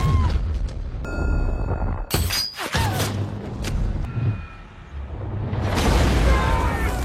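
Gunfire rings out in a war film scene, several sharp cracks and booms scattered among a low rumbling mix of effects, with the loudest burst partway through.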